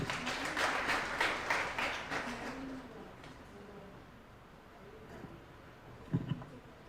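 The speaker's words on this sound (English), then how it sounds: "Let's give her a round of applause" An audience at an International Women's Day event breaks into a round of applause, dense and fairly loud clapping for about three seconds that thins out and fades, leaving a few scattered claps and faint murmurs.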